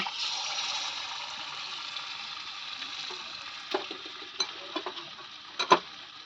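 Eggs coated in gram-flour batter fry in oil in a kadai, giving a steady close sizzle, with a few sharp clicks of a utensil against the pan near the end.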